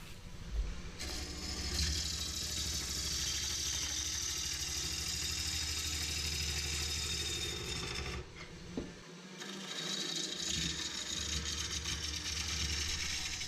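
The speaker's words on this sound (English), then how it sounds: "So for doing roughing, I like to use my Thompson 3/4 inch bowl gouge" Roughing cut on a wood bowl blank spinning on a lathe, shaped with a 3/4 inch Thompson bowl gouge for production turning; a steady loud hum and hiss fills the clip, briefly breaking off near the middle before resuming.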